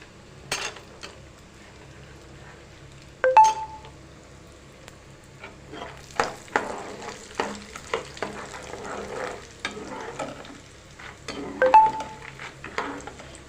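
Peanuts and almonds frying in a pan for Kerala-style mixture, with steady sizzling and repeated stirring scrapes, a few sharp utensil clinks against the pan, close and moderately loud with no talking.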